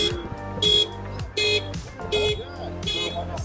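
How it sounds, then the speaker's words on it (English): Car alarm sounding inside a Ford Mustang Mach-E, a loud repeating electronic tone in pulsed bursts that rise and fall over a few seconds, with a low hum underneath. "So I stuck my hand in and set off the alarm inside the Mach-E."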